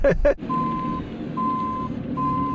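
A Mercedes-AMG C63 backs up with reversing beeps sounding three times in an even rhythm, steady and clear under low engine hum, after a short burst of voice at the start.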